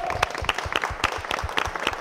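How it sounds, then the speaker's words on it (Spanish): Audience applause on a Spanish-language television show after a fashion parade, dense clapping from a crowd, fairly loud and continuous with distinct individual claps standing out. "Un fuerte aplauso para ellas"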